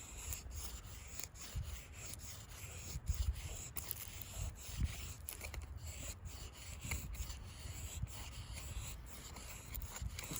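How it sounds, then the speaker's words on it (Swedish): A Cold Steel SRK knife blade rubbed in steady, repeated strokes against a sharpening stone outdoors on a hike, with a continuous gritty scraping rhythm, close and fairly quiet, with no talking. "Slipar upp den lite."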